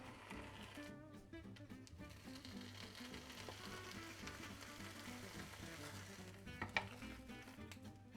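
Ham slices fry in a pan, a faint, steady sizzle and crackle running throughout with a small clink near the end and no talking.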